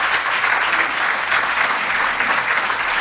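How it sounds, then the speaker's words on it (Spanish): Steady applause from a church congregation, a dense wash of clapping that holds at a constant level for the whole stretch. "¿Cuántos le dan un aplauso al Señor?"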